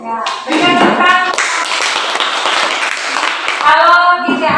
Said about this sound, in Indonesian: Ya, berikan tepuk.